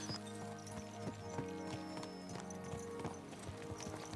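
Horse hooves clip-clop steadily in Kingdom Come: Deliverance II, a regular close rhythm of hoofbeats over a layered game music bed, with an occasional faint whinny.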